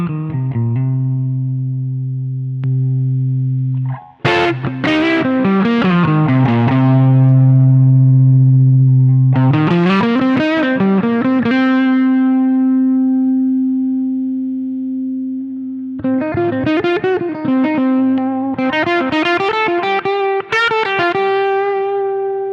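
An electric guitar runs through a Brown Amplification Tube Screamer-style overdrive pedal, playing loud, sustained distorted chords and bending notes with short runs between long ringing holds, alone without talk.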